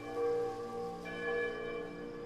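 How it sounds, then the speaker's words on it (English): Church bells ring in a valley in celebration of Independence Day, a few soft, resonant tolls with long ringing overtones heard faintly and at a distance. "while in the valley below, church bells rang in celebration of Independence Day"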